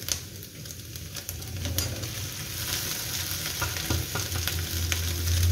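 Boiled rice tipped into a pan of vegetables frying for egg fried rice, a continuous sizzle with scraping and stirring clatter that grows steadily louder, no voices.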